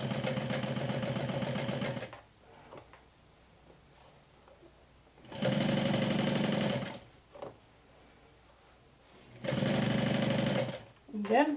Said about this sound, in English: So I'm stitching this with 1/4 inch seam allowance.